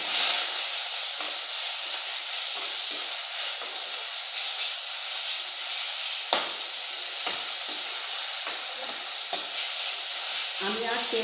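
A paste of medium onion, four garlic cloves and a little ginger fries in reused oil for an egg and pointed gourd curry, a loud, steady hiss with occasional stirring scrapes and a spatter near the end.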